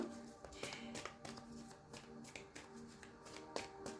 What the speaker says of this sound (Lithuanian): Žiūrim, kokios kortos krenta.